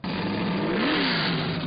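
A racing supercar's engine with over 700 horsepower roars at high revs, a loud, continuous, close engine drone whose pitch climbs briefly and then settles.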